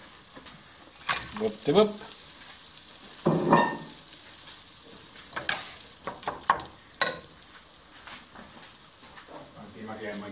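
Onion and pork cracklings sauté in a pan, a soft sizzle under scattered clinks and scrapes of stirring, with a person speaking briefly now and then.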